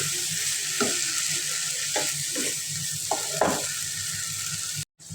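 Sausage frying in a pan as a marinated sauce goes in, a steady sizzle with a few soft stirring scrapes and knocks, close and continuous, briefly cut off near the end.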